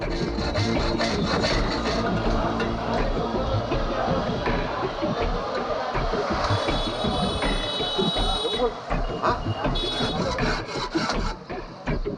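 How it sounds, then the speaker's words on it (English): Blacksmiths file the base of a metal blade in continuous, rapid rasping strokes, gritty and close, with faint tonal ringing in the background. "the blacksmiths file the base of the blade"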